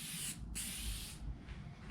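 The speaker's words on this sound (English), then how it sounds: "So I'm first just going to spray around the edges, and then I'll go with the grain all the way across the top." Finish is sprayed onto a hardwood end table top in close, steady hissing bursts, with a brief pause between passes and no talking.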